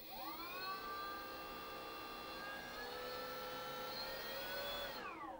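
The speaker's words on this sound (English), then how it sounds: "let's spool up the prop again" Electric propeller on a Durafly Ugly Stick V2 1100mm sports RC plane spools up into a steady high whine that holds level with rising and falling tones, then winds down at the end, fairly loud with no talk.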